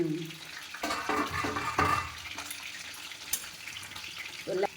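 Two bhetki fish fry in a pan with a soft, ongoing sizzle, a few utensil knocks and clatters, and a voice heard faintly at times.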